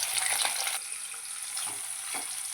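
Sliced shallots sizzle and crackle steadily in hot oil, with occasional stirring scrapes in the pan.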